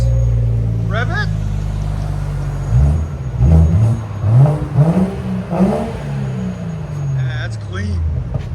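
A 2017 BMW 740i with a 3.0-liter turbocharged inline-six and muffler delete revs up loudly from a steady rumble, several surging pulls rising and falling up close, with voices talking over parts of it.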